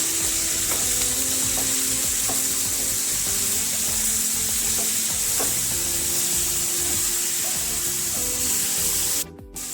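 Mixed vegetables for a pulao sizzle in a pan while salt is stirred through, producing a strong steady hiss punctuated by light clicks of the spoon, ending in a sudden short burst of noise.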